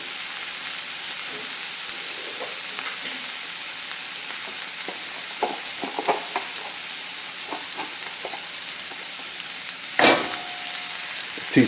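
Onions sizzle steadily as they fry in a pan, a continuous close crackle with scattered pops and a brief louder stir or clatter near the end; no one speaks.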